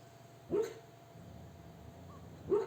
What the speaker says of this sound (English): My dog's having a dream.